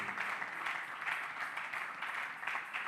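A church congregation claps in sustained, steady applause, moderately loud and continuous, with no voices rising above it.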